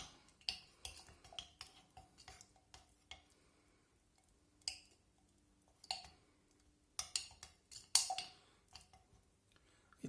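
A spoon stirs a virgin coconut oil dog treat mixture in a bowl, making intermittent scraping clicks and light clinks against the bowl in short bursts with quiet pauses between them.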